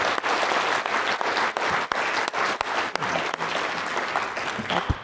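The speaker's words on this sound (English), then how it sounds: "I want to give you a round of applause again, because I really enjoyed it." Audience applause following a keynote talk at an open educational resources event, a dense, steady wash of many hands clapping throughout, loud and sustained with no voices rising above it.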